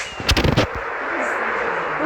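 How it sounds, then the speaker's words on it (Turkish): A video game firework used for flying, played on a phone, gives a quick cluster of sharp crackling bursts, then trails off into a steady hissing rush. "Ya Deniz bu havai fişekle nasıl uçuluyor?"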